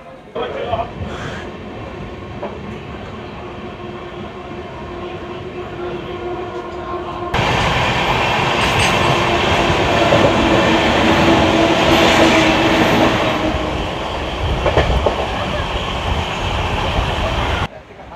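An express passenger train, the Purulia Express near Panskura Junction, rumbles along close by. The roar swells sharply partway through, with rhythmic clickety-clack over the rails, then cuts off abruptly at the end. A voice may talk beneath the noise.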